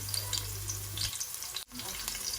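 Chopped garlic hitting hot oil in a home Bengali kitchen gives a steady, close sizzle that crackles on without pause for a couple of seconds.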